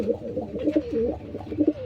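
A pair of pet pigeons coo close by in a few soft, rolling, throaty phrases, with no other sound around them.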